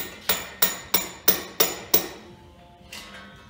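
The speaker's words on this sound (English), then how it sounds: "I'm going to try just tapping along here at the edge with the screwdriver" A screwdriver taps along the edge of a Ford Mustang 170 cubic inch engine part: six sharp, evenly spaced metallic knocks close up, then a quieter pause and one faint final tap.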